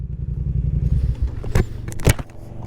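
A motorcycle arrives at a cars and coffee meet, its engine rumbling low and steady close by, with clattering and scraping transients over the idle.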